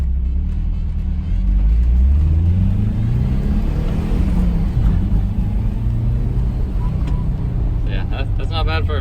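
A Volkswagen Vanagon pulls hard through first and second gear, its engine rumbling up in pitch, then a shift and a climb again, heard from inside the van.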